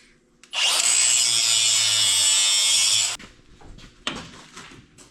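A power grinder cuts out parts on a truck, starting abruptly and running loud and steady for about two and a half seconds before shutting off, followed by a few scraping knocks nearby.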